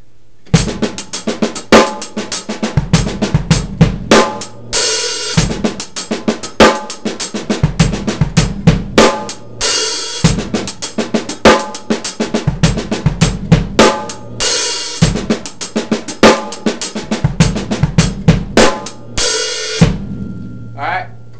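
A drum kit plays a 32nd-note half-time groove, with dense rapid hi-hat strokes, punchy kick and snare hits and washy open hi-hat accents recurring in steady bars, loud and close with no talking.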